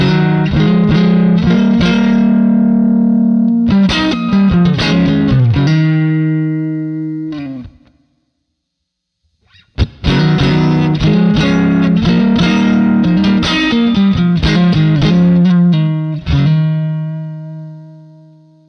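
Loud electric guitar strummed with a sterling silver pick in bright, driving chords, with a brief silent pause midway before the playing resumes with crisp pick attacks.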